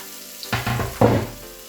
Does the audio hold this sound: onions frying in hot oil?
yes